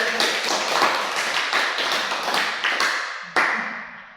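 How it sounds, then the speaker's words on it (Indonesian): A small classroom group claps in a brisk, uneven patter for a few seconds, close by, then the clapping stops abruptly with a final sharp clap. "Tepuk tangan dulu."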